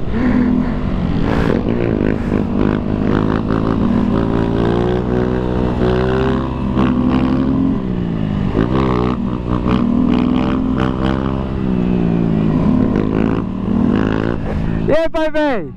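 Motorcycles rev hard on a busy street on a Sunday, loud and near, their engines rising and falling in pitch in repeated bursts, with voices talking over them and a quick high-pitched sweep near the end.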